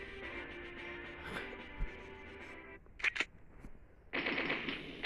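Gunfire from the mobile shooting game Mini Militia comes in short, quiet bursts and single cracks with gaps of near silence between volleys.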